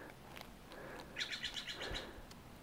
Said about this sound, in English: Screamed like more like an eagle than a hawk.